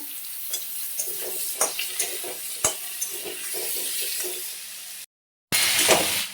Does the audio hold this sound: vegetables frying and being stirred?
yes